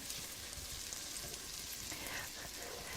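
Parmesan-crusted pork chops sizzle and crackle steadily in a hot pan, a soft continuous hiss with small pops, close and fairly quiet.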